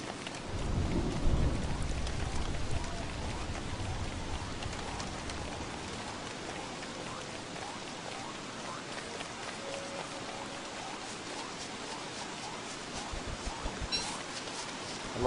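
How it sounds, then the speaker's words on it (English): Steady rain pours down with rumbling thunder in a video game, a heavy low roll near the start, continuing throughout with scattered drops and occasional crackles. "It's raining."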